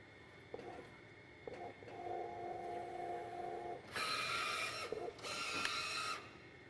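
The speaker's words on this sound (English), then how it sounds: "Press OK twice to begin printing a nozzle check pattern." An Epson SureColor T-series large-format printer runs a nozzle check print, giving steady mechanical whirring with a sustained tonal hum, then two loud bursts of print-head shuttling near the end, close and alone.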